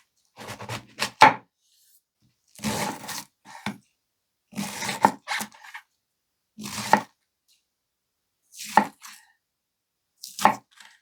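A kitchen knife from a budget 15-piece Coquusaid block set chops through cabbage in about six quick bursts of crisp, close blade strikes against the board, separated by short pauses.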